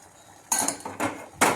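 A metal tea strainer and cup handled in a home kitchen, giving three sharp clinking, rattling impacts close by, each fading quickly, with no talking.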